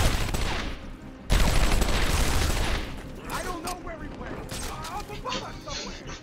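Enemy gunfire in Batman: Arkham Asylum, a loud continuous fusillade of shots that drops away into scattered pops, clanks and game noises, with a voice speaking over part of it.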